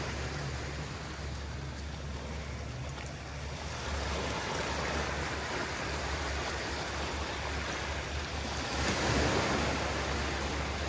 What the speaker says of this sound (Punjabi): ਐਵੇਂ ਛੱਲਾਂ ਆਉਂਦੀਆਂ ਤੇ ਐਵੇਂ ਮੁੜ ਜਾਂਦਾ ਪਾਣੀ ਛੱਲਾਂ ਦਾ